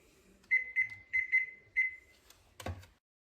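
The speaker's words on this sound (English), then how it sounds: "I'll set my timer for 15 minutes." A kitchen oven timer goes off while sesame chicken bakes: five short, bright, evenly spaced beeps, close and clear, ending in a single dull clunk.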